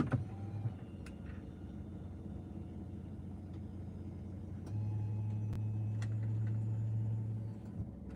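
An electric car seat motor hums steadily as the seat lowers all the way down, a low continuous drone inside a parked car that grows louder midway, then stops near the end.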